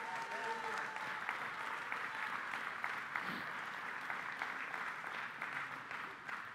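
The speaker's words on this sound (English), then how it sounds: "Let's give Him a round of applause, right?" A church congregation claps together in steady, dense applause at moderate volume, with voices faintly mixed in beneath the clapping.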